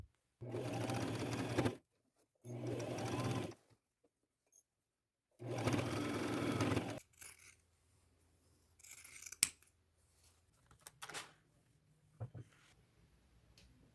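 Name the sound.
sewing machine stitching a seam on a thrifted dress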